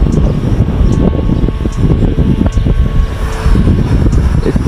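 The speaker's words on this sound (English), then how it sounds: "Whew, that's a nice gust." Gusty wind buffets an FPV quadcopter drone in flight, a loud, broadband rush with steady propeller hum and faint higher whine, close to the microphone without voices.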